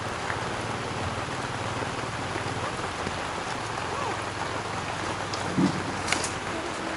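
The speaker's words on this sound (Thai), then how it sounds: "ฝนตกไม่หยุด ทำไงล่ะเนี่ย" Steady rain patters on a tent overhead at a campsite, a dense continuous hiss with a few louder drops and faint low rumbling underneath.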